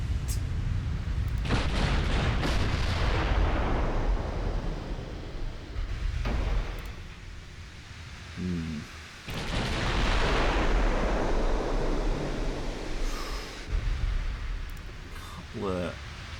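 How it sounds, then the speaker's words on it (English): The Japanese battleship Nagato fires her full main battery in a naval battle in Ultimate Admiral: Dreadnoughts, with heavy booming salvos and long rumbling rolls repeating across the stretch. A voice talks over part of it. "Nagato, I think, now firing all of her guns."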